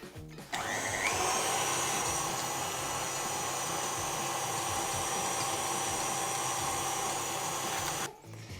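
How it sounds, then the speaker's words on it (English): An electric mixer whisks sugar into egg-white meringue for a pavlova, giving a steady motor whine with a rise in pitch near the start that runs for about seven and a half seconds and then stops. "add the sugar to the whipped meringues and just keep whisking all the time"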